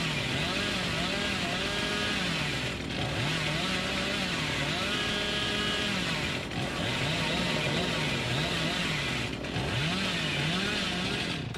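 The Hillbilly's chainsaw in the video game Dead by Daylight revs loudly and continuously, its buzzing engine pitch rising and falling in repeated waves over gameplay noise.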